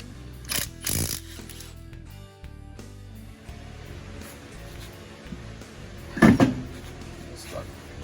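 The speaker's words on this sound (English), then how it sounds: "first thing we gotta do is pull off that brake" Metallic clunks and a sharp scrape as a brake drum is worked off a 1966 Chevy II Nova with a 230ci engine in a garage, a few distinct knocks then a louder rattle near the end, with low background rumble.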